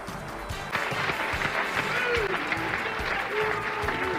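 A bowling center crowd claps and cheers in a steady wash of applause for PBA bowler John Mazza, loud and sustained, with a commentator talking over it.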